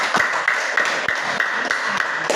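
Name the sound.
applause for a group presentation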